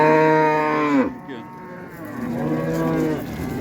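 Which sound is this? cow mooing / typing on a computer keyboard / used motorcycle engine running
cow mooing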